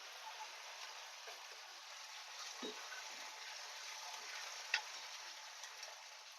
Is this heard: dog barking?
no